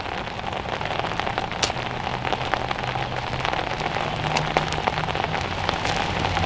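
Heavy rain falls outdoors in the woods, a dense, constant patter with occasional sharper drips hitting nearby surfaces.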